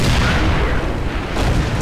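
A single heavy tank-cannon hit slams into the player's tank in a tank battle game, a loud booming impact with a rumbling tail.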